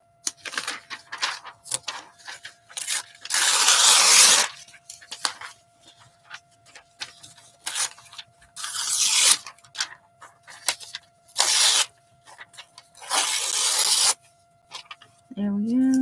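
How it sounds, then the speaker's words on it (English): Paper torn by hand for a collage, several bursts of ripping spread across the stretch with quiet handling and light rustling between them, close and fairly loud. "I like tearing all the words off whenever I can."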